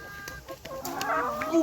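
Chickens cluck nearby in short, overlapping calls, with a rising squawk at the end.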